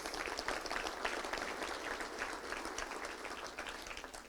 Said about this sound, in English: So let's give a big round of applause to all of our great sponsors.